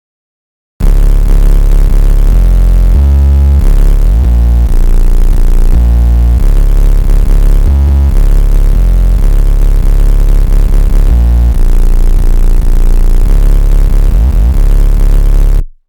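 An 808 bass called "Bleach" from the Trauma drum kit in FL Studio, a deep booming sub bass playing a steady pattern of long sustained notes with pitch glides, loud and continuous for the whole stretch.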